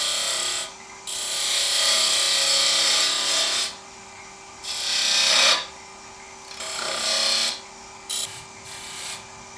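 Wood lathe turning a wooden chalice, a gouge scraping and hissing against the spinning wood in several loud bursts separated by brief pauses, with the motor's steady hum running under everything.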